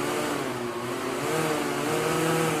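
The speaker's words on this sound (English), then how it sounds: "So go ahead and hit the fan, Brad." A large fan at a photography shoot revved up, giving a steady, loud roar with a low droning hum that swells slightly partway through and holds throughout.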